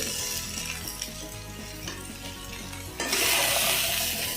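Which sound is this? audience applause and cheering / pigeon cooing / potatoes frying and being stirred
potatoes frying and being stirred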